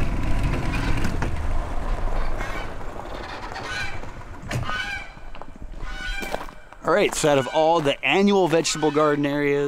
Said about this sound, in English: hope you guys can hear the audio right now with the goose going off.